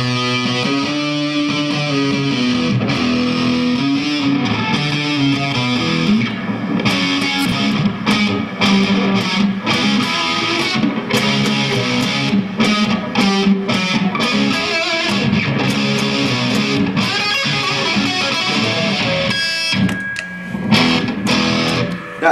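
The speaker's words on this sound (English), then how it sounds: "Here's the fuzz, authentic fuzz circuitry." A sustained, buzzy distorted electric guitar riff plays through an Otis pedal's fuzz circuit, loud and continuous, with a thick saturated fuzz tone and steady chugging rhythm.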